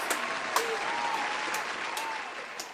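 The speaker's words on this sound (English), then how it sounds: "everyone give Juan Manuel Santos a round of applause" Audience applause for Juan Manuel Santos on a talk show, a steady wash of clapping from a crowd with a few sharper claps standing out, sustained throughout without speech.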